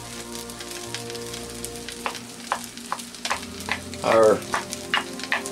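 Cooked egg being chopped and stir-fried in a wok for beef fried rice sizzles steadily under sharp, repeated spatula scrapes and taps, with one louder burst of clatter partway through.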